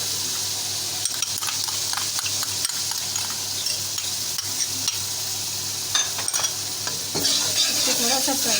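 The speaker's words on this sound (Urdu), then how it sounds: "اس کو تھوڑا سا فرائی کرتے کرتے" Chopped green chillies fry and sizzle steadily in a pan while being stirred for vegetable pulao, a continuous close sizzle with occasional scraping and stirring clatter, no one talking.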